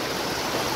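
A flooded mountain stream at Nisikhola in Baglung rushes across the Mid-Hill highway, a brief, steady, close broadband roar of churning water with no voices.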